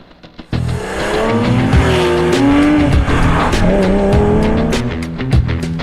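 Porsche 911 with a rear-mounted flat-six engine, driven hard: a loud, sustained engine roar with shifting pitch and tire squeal through most of the stretch, with no talk over it.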